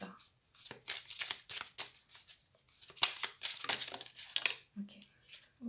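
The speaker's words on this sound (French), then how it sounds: "On a des cartes qui sautent là." Tarot cards riffled and shuffled by hand in quick papery bursts, with cards slipping and flicking loose, close and fairly soft, with a voice speaking briefly in between.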